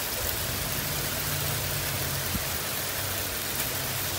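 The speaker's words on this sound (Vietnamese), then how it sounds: "Rồi tiếp tục mưa." Steady, dense hiss of rain falling at night during a California hailstorm, continuous and even throughout, with a faint low hum beneath.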